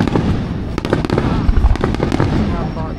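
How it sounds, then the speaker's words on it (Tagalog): Festival fireworks in Tahara, Japan burst repeatedly in sharp cracks and rumbling booms over a dense, continuous crowd din, loud and fairly close. "Hindi pa tapos yung fireworks."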